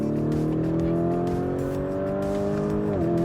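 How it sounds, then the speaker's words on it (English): A 2022 Lamborghini Urus with a turbocharged engine accelerates hard, its loud, close engine note climbing steadily through the revs before a brief dip at a gear change. "this is a turbocharged engine."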